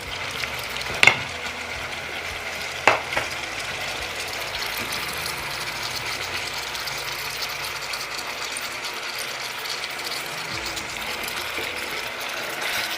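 Food frying in a pan with salt and black pepper gives a steady sizzle, while a stirring utensil scrapes and clacks sharply against the pan twice early on, then the frying hiss continues alone.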